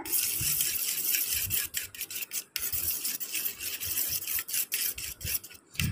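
Aloe vera oil and capsule oil are mixed in a bowl with steady, rapid scraping and rubbing strokes, close and fairly loud, with short pauses between bursts.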